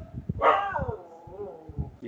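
A dog barks and yips a few times in the background while a person talks over it.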